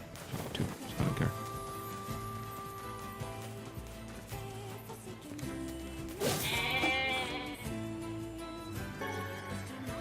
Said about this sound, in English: The goat or sheep?